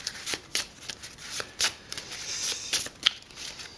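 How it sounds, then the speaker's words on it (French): A board game's encounter card deck gets riffled and shuffled up close, a rapid run of crisp papery flutters and snaps repeating for several seconds without any speech. "Mélanger le deck de rencontre."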